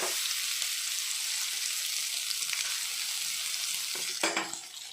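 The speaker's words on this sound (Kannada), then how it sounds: "ಫ್ರೈ ಮಾಡಬೇಕು ಸ್ವಲ್ಪ ಅರಸಿನ ಹಾಕ್ಕೊಳ್ತೇನೆ ಸ್ವಲ್ಪ ಹೊತ್ತು ಫ್ರೈ ಮಾಡಬೇಕು" Ground masala fries in ghee with cashews and urad dal, giving a continuous bright sizzle close to the pan, with a sharp utensil clatter near the end.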